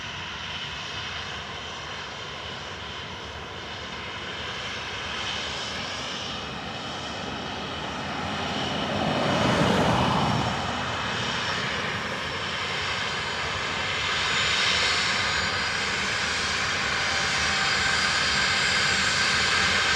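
A United airliner landing on runway 28 left at Dublin Airport, a steady distant jet engine rumble that swells midway and stays strong, with no talking.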